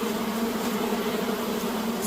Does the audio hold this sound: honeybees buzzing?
yes